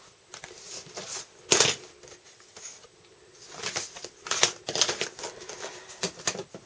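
Scissors snip and crunch through paper in short bursts, with brief pauses between the cuts and some rustling as the sheet moves.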